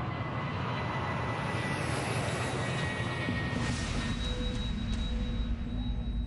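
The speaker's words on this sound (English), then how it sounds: "British Midland Flight 92 takes off on a routine flight to Belfast in Northern Ireland" A British Midland Boeing 737-400 airliner takes off on a flight to Belfast, a broad, steady roar of jet engines heard from a distance at moderate level, with no one talking.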